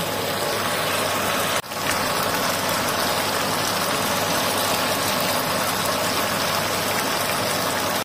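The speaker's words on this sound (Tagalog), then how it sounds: "umuulan ng konti yan, ulan-ulan ng konti" Light rain falls steadily as a constant broadband hiss with a low engine-like rumble underneath and a brief dip partway through, with no talking.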